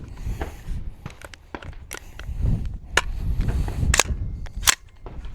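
Unsuppressed 300 Blackout rifle firing 150-grain rounds from a 10.5-inch barrel, several sharp, loud reports spaced irregularly over outdoor background noise.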